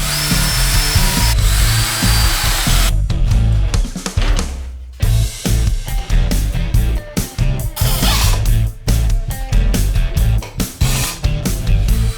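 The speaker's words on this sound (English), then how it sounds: "I'm just going to drill some holes in the sides as well." An electric power drill bores holes through the wooden sides of a handmade box crate, loud and close, in repeated whirring bursts with short pauses between them.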